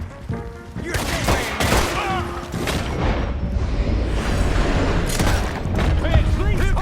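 Gunfire in the video game Red Dead Redemption 2 during a wagon chase, with dense rapid volleys of shots and booms going on throughout, mixed with game voices and clatter.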